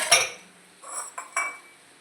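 A few sharp clinks of dishes and cutlery knocking together, spaced irregularly over a quiet background.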